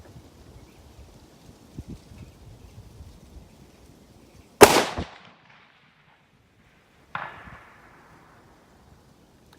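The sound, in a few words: rifle shot from a Tikka TAC A1 at steel target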